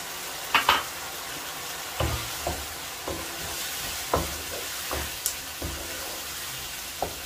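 Chicken jalfrezi cooking in a pan with vinegar, soy sauce and ketchup added, giving a steady close sizzle broken by several sharp scrapes and clanks of a stirring utensil spaced irregularly through the clip, with no talking.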